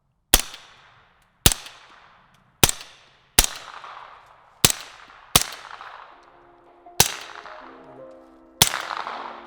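Suppressed gunshots fired with Winchester 147 grain subsonic ammunition: eight sharp, loud reports spaced roughly a second apart, each with a short decaying tail, and a faint tonal ring under the later shots.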